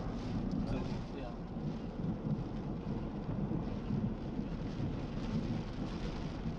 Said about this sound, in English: And that lightning is loud.